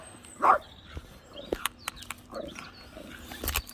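Dogs passed on a sunny countryside walk give a few short barks and yips, mostly at moderate distance, with one louder bark near the start amid outdoor background noise.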